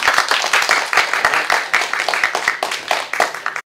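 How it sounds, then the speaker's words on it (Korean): An audience claps to open a candidates' meeting on the Baekhyeon MICE project in Seongnam, a close, brisk burst of many hands with distinct sharp claps that keeps up steadily and then stops abruptly. "간담회를 박수로 시작하도록 하겠습니다"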